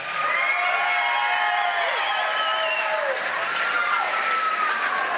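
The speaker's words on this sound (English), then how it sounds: "Let me hear some hand claps out there for these guys." A fight-night crowd claps and cheers loudly and without a break for the fighters before a five-round main event, with whistles and shrill whoops rising over the dense applause.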